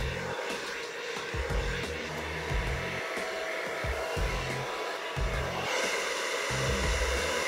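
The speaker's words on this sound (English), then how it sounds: "Now I just wanna do a rough blowout because I don't want to smooth that texture" Hair dryer running on low heat while rough-drying hair for a textured blowout: a loud, steady airy whoosh with a low motor hum that fills the whole stretch, with a possible faint voice underneath.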